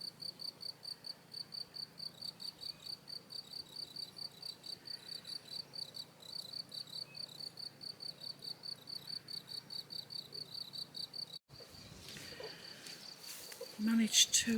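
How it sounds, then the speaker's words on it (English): Crickets chirp among olive trees in the countryside, a faint, rapid, steady pulsing that runs on continuously, then gives way to rustling and handling noise near the end. "Don't know if you can hear the crickets."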